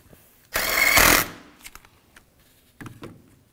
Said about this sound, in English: with a 12 millimeter socket, we'll tighten that down